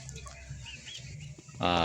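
A gamecock's crow, a Golden Boy and Boston cross, bursts in loudly near the end, after a stretch of low murmuring background noise.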